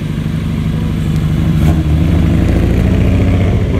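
A classic car drives into an early-morning old-car club charity meeting at Imajo 365 ski area in Japan, its engine a loud, close, continuous rumble with a slight rise in revs midway.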